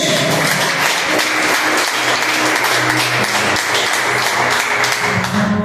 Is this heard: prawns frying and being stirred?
no